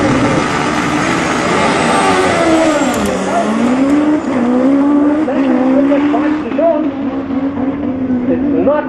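Drag racing motorcycles at the Tarlton Raceway Nationals run loud and sustained down the strip, with engine tones rising and shifting over the full stretch and speech heard underneath.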